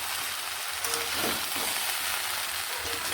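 Mixed vegetables for a vegetarian five-vegetable curry sizzle and fry in a pan, a steady, fairly soft hiss with a few faint stirring scrapes, no voices.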